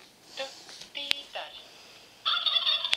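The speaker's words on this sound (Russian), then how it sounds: "О, индюки там на ферме." Turkeys on a video game farm gobble in quick warbling bursts, one early and a louder, closer run near the end, with a brief game sound in between.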